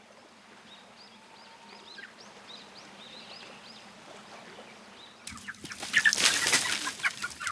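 Chickens recently bought at a market cluck on a tiny island home, with soft chirps and calls at first, then a sudden loud burst of close, flapping clucking near the end.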